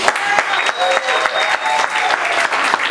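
An audience claps steadily in a church session hall, cheering for a helper, with a dense, continuous applause lasting the whole moment at close range.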